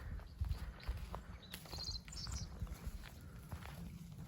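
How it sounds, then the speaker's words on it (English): Cattle walk toward a gate on a farm, their hooves plodding in a steady scatter of soft thuds and rustles against a constant outdoor background. No one speaks. "Just takes one lead cow and the rest of them come this way."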